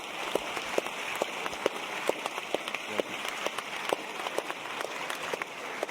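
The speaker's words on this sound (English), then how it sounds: "I just want to collectively give them applause" An audience applauds after a panel debate on whether the universe is a simulation, a steady patter of many hands clapping at moderate volume with scattered sharper claps standing out.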